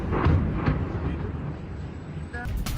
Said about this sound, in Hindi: ये कामिकाज़ी ड्रोन से मॉस्को पर हुए हमले की वो तस्वीर है जहां जोरदार धमाका हुआ।